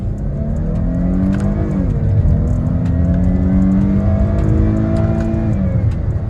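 Dodge Charger V6 accelerating hard through paddle-shifted gears in sport mode, a loud steady engine drone with a rising whine inside the cabin and a brief dip at each shift, no talk.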